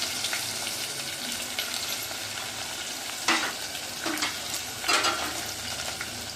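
Onions sizzle steadily in hot sesame oil with mustard seeds and curry leaves, a bright continuous frying hiss with a few louder spits and stirring scrapes, close and with no talk.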